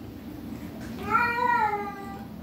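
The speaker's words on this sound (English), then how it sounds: "that's what it sounded like when she meowed" A cat meows once in a drawn-out, rising-and-falling call close to the microphone, heard over a quiet room hum with no talking.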